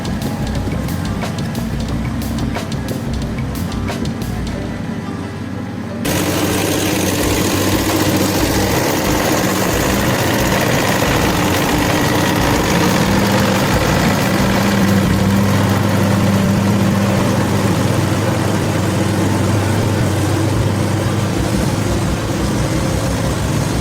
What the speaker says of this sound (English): With careful crane operation, each log is lifted and loaded.